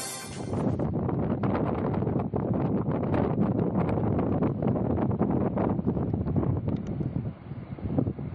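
Strong wind with heavy rain in the Malnad hills of Chikmagalur district, a steady, loud roar of gusting air and downpour that continues unbroken with no voices.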